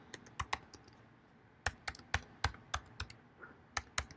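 A password is typed on a computer keyboard as a quiet series of crisp, irregular key clicks, about a dozen taps with a short pause near the start, close by with no talking.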